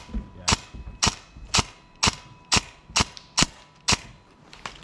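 Airsoft gun firing at an outdoor airsoft game, eight sharp, evenly spaced cracking shots in a quick steady rhythm, loud and close with nothing else over them.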